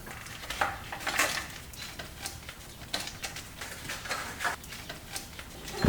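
A Toyota Prius intake manifold is worked loose and pulled from the engine bay, producing a string of close metallic clunks, knocks and scrapes at an irregular rhythm, with no talking over them.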